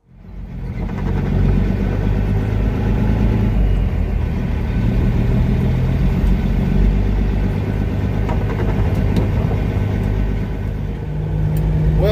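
A truck engine runs steadily throughout, a loud, continuous low rumble close by with an even idle-like drone and no talking.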